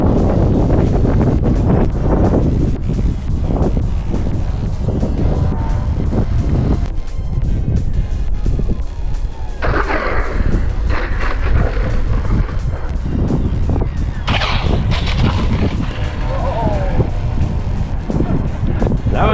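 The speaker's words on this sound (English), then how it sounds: "Just too windy, but you can really get a good feeling for it regardless." Strong gusty wind buffets the microphone loudly and continuously while an EDF RC jetliner is flown outdoors, with roaring, rumbling surges and no clear talk.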